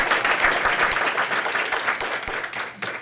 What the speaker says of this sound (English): Give a nice warm round of applause for our student speakers.